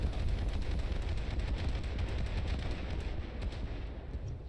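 Secondary guns on a warship in the War Thunder video game firing in a dense, continuous barrage of rapid booming shots over a low rumbling roar.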